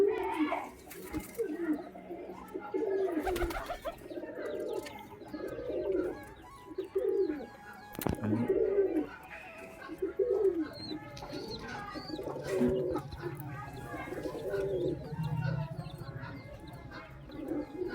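Domestic pigeons cooing outdoors: a run of low, throaty coos repeating in an even rhythm, close and fairly loud, with faint chirps and some background voices.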